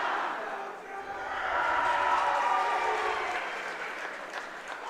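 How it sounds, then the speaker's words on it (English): A gym crowd at a high school men's basketball game cheers and applauds after a three-pointer, a dense wash of clapping and shouting that swells in the middle and then eases, with an announcer's voice underneath. "As we can see, the crowd is hyped up. They're loving this high-energy basketball team"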